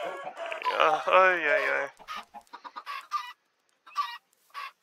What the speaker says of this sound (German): Oh, die Hühner. Ach, die armen Tiere.